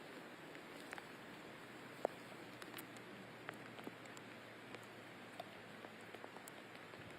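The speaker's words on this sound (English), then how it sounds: "the rain continues to fall over High1 CC" Steady rain falls over the High1 CC golf course during a women's professional tournament round, a soft continuous hiss of drops with a few faint scattered taps, no voices.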